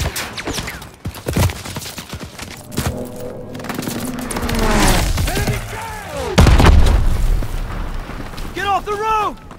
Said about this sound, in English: You guys hear that? It's headed this way. Stukas, inbound.